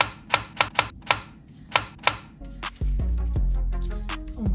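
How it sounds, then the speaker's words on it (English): Several sharp plastic clicks as an RGB RAM stick snaps into its motherboard slot, followed by a steady low mechanical hum starting up nearby. "you got to hear that click at the bottom."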